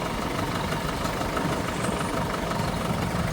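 A Ferguson 35 diesel tractor runs steadily at a mini tractor run around Holkham Hall, its engine a continuous, fairly close, loud rough drone with no pauses, no talking.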